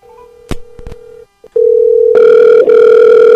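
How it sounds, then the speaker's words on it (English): Steady telephone dial tone heard while ringing a radio show guest, interrupted by a few dialing clicks and a brief gap, then returning loud and continuous with extra tonal layers. "I'm dialing the phone and pretending like I'm not, but I am."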